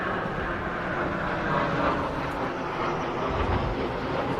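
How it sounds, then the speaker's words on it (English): Italian Eurofighter Typhoon jets arriving in a mixed formation at the Royal International Air Tattoo 2023, a broad continuous jet engine roar that swells slightly, distant to mid-range, with no voices. "A mixed formation of jets now arriving. So this is the Reparto Sperimentale Volo Typhoon."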